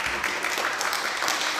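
Brief burst of congregational clapping for a child in a parish church during a communion service, dense and even throughout.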